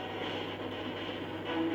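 Australian railway locomotives begin pulling a train, giving a steady, continuous low mechanical rumble with a faint tonal hum, close and even throughout, without voices.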